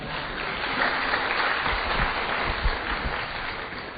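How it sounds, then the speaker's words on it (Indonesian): Audience applause at an Islamic religious talk in Indonesia, a dense, steady patter of many hands clapping together at moderate loudness with a faint murmur underneath. "Kasih tepuk tangan dulu Pak Farid."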